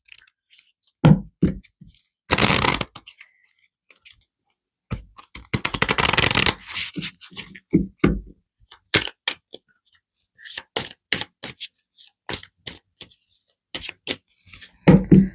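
Shiny-coated tarot cards are shuffled close up in short, irregular riffling bursts and quick flicks, some longer ruffles around two and six seconds, separated by near silence.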